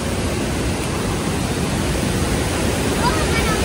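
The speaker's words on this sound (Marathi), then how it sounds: "ओके या बाजूला पाण्याचा फोर्स बघू शकता. समोरून सगळं पाणी कातळावरून येत आहे." Waterfall water rushes hard over rock, a loud, dense, unbroken roar close by with no let-up.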